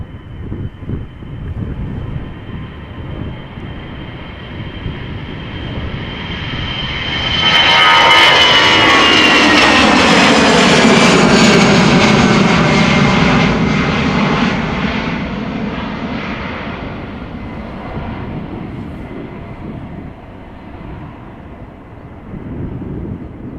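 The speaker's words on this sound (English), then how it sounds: "So it is once again time for heavies. This time a 787-10 Dreamliner." A Boeing 787-10 Dreamliner jet at Amsterdam Schiphol roars past, its engine whine building from a distant rumble to a loud peak and fading away again over about twenty seconds.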